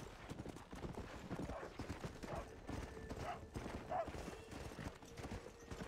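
Hooves clop steadily beneath a horse ridden in Red Dead Redemption, a close, even trotting beat lasting several seconds, with faint whinny-like calls scattered through and no one talking.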